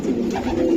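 Pigeons coo in a racing pigeon loft, a close, continuous low throaty murmur lasting under a second with no voices over it.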